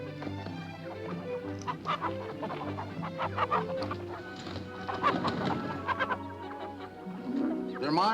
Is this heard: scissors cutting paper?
no